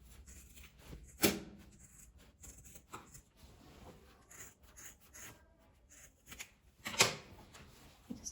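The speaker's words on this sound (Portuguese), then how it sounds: "Vou cortar bem na beiradinha." Scissors snip excess fabric scraps from a patchwork glasses case, giving a few quiet, close crisp cuts with two sharper snips among soft rustling of cloth.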